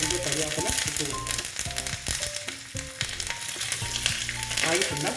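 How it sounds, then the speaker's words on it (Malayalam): Onions sizzle in a hot pan for a sweet Kerala mango curry as curry leaves go in, a steady, loud frying hiss running throughout with melodic music playing over it. "प्याज थोड़ा फ्राई हो रहा है."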